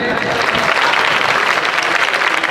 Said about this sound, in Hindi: बच्चों से कहूँगा उन टीचरों का सम्मान तालियां बजाकर करें।